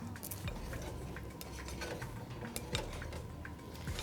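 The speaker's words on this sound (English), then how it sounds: "We'll stir these around, and our kidney beans" Kidney beans being stirred in a casserole dish, soft continuous scraping and light clinks of a utensil against the dish, close and fairly quiet.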